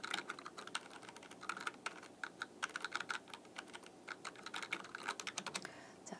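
Chat message typed on a computer keyboard: quick irregular bursts of light key clicks, close and fairly quiet, alone with no voices.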